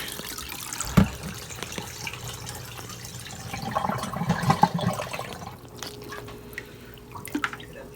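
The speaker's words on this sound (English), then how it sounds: "I might want to go ahead and drain a little more water out" Water drains from a Sky twin tub washing machine, trickling and dripping steadily in a quiet room, with a louder drip or splash near the start and scattered small drops throughout.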